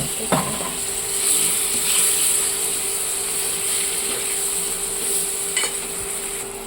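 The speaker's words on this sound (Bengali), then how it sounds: "মাছগুলোকে দিয়ে একবারে হলুদ লবণের সাথে ভেজে নেবো" Fish frying in a pan with turmeric and salt, giving a loud, steady sizzle with occasional sharp clicks and scrapes of stirring, heard up close without voices.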